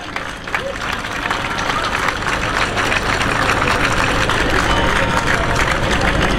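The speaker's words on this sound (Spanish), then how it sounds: "os pido un fuerte aplauso para Mauricio Valiente" A rally crowd applauds loudly and steadily at an outdoor gathering marking a remembrance date, with dense sustained clapping and a low engine-like rumble underneath.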